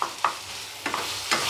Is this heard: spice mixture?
yes